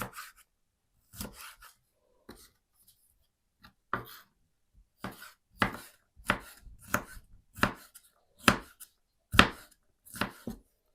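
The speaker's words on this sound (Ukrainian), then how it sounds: "на такі полосочки, а тоді на кубики розрізаємо" A knife chops bell pepper into cubes on a cutting board, irregular crisp knocks coming in short clusters, close and distinct against near silence.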